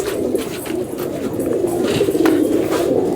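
Madrasi pigeons coo in a loft at Ichhapur near Kolkata, a soft steady low rumble of overlapping calls with faint scuffling behind.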